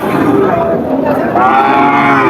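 Cattle low loudly and steadily at a crowded Bangladeshi cattle market in Barobazar, with one long drawn-out moo that rises partway through, backed by constant crowd murmur.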